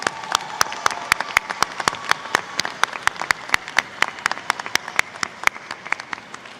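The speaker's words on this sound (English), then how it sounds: "Let's give another round of applause for Ms. Gibson." A commencement audience claps in the hall, sharp scattered hand claps over a steady bed of applause that holds evenly and close for several seconds, with no voices over it.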